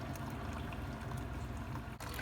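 A Keurig coffee maker pours a steady stream into a cup, a continuous gurgling trickle, close and fairly loud, with a brief dip near the end.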